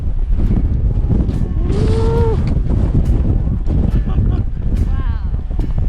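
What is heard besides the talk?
strong wind on a mountain ski pass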